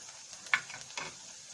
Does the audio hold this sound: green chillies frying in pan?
yes